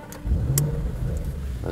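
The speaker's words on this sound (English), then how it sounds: "We start the engine right here," An Audi S8 Plus V8 engine turns over and settles into a steady running rumble with slight revving, heard close up with no talk.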